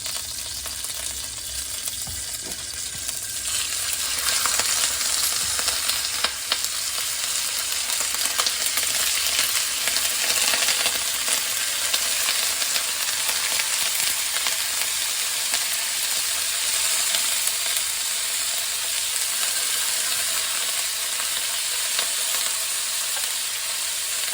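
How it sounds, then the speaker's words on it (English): Hare meat sears in hot beef fat in a pan, a loud, dense, steady sizzle and crackle that holds evenly throughout with no voices. "we're going to brown our drained hare meat"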